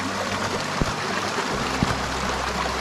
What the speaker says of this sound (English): Ye river hai.